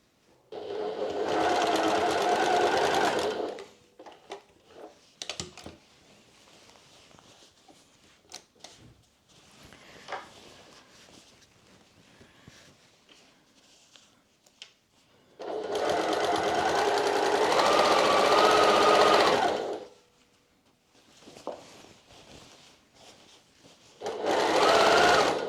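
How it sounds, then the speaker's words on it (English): Sewing machine top stitching a thrifted garment, running in three loud sustained bursts separated by quieter handling and rustling, the last burst cut off at the end. "let me top stitch this"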